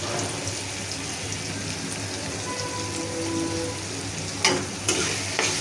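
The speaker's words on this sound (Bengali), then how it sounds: "আদা রসুন ভাজা হয়ে গেছে" Ginger and garlic frying in oil with turmeric for a prawn and taro-leaf curry, a steady close sizzle with a few sharp clacks of a spoon stirring the pan near the end.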